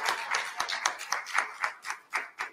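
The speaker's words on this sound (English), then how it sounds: "So give yourselves a hand for being here." Audience applause at a church patriotic service, a brief burst of irregular hand claps from a small crowd, fairly close and fading toward the end.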